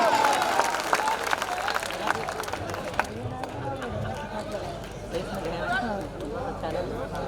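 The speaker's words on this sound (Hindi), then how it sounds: "जोरदार ताली।" Applause from the crowd at a Bhojpuri and Hindi comedy fair show, loud and dense at first, then thinning into scattered clapping and chatter over several seconds.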